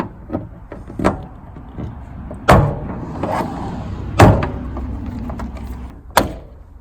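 Plastic trim panel clips popping loose from the interior wall of a 2018 Sprinter van, three sharp, loud snaps spaced a couple of seconds apart over soft handling and rustling of the panel.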